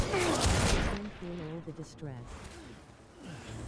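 Turrets firing in Death Stranding: a loud, noisy burst of rapid fire in the opening second, then a person talks over quieter background rumble.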